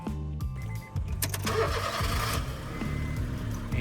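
A car engine starts: a short whirring crank followed by the engine catching and running at a steady idle, close and moderately quiet, with no talking.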